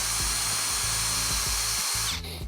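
A power drill whirs loudly and steadily, its motor labouring in short bursts as the bit bores through a wood board, then slowing at the end.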